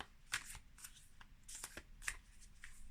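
Quick riffling and slapping of tarot cards being shuffled close up, a series of crisp bursts in an uneven rhythm, quiet and without talk.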